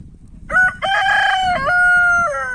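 A rooster gives one loud, close crow with a rising first note and a long, held, slightly wavering tail, heard alone over faint background noise.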